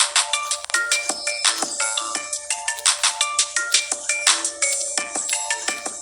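A cellphone ringtone plays during a Roblox swim league game, a bright repeating electronic melody of quick tonal notes in steady rhythm, loud and clear with no talking.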